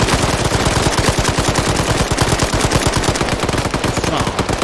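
Sustained automatic gunfire from an ambush on a Soviet convoy with a BTR armored vehicle in the video game Arma 3, dense rapid bursts at loud volume filling the whole stretch without letup.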